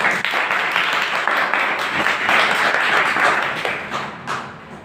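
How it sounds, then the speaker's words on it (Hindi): Audience applause at a Teacher's Day school event, a dense, steady clapping from many hands that carries on for several seconds before tapering off near the end. "जोरदार तालियां"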